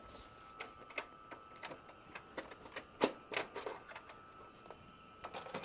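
Paper jammed in a printer mechanism is tugged loose, giving a run of sharp irregular clicks, ticks and rattles up close, fairly faint, with no talk.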